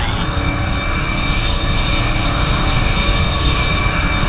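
A Messerschmitt Me 262 jet fighter's engines in the BeamNG video game, roaring loud and steady at close range with a constant whine, no talking over it.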